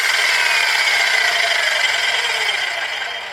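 A 9-inch angle grinder spinning down after being switched off, its loud high whine dropping steadily in pitch over a few seconds and fading slightly toward the end, heard alone.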